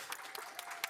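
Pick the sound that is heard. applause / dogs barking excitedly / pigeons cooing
applause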